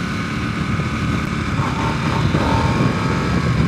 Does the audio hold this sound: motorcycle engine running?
yes